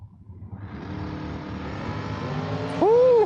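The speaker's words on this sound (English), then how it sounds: "We got ourselves a drag race" Drag race cars build from a rumbling idle into a rising engine roar, then one launches with a sudden, much louder surge of climbing engine pitch near the end.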